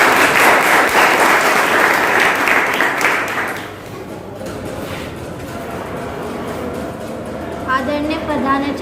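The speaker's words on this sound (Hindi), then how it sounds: "जोरदार तालियों से" An audience at a school seminar on plastic's harm gives loud applause, a dense burst of clapping for about four seconds that fades into quieter room noise, with a voice speaking near the end.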